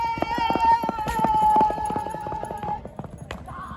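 Racing horse hooves pound in a quick, steady clip-clop rhythm at a village horse race, moderately loud and close, with a faint higher tone running across the first half and crowd noise beneath.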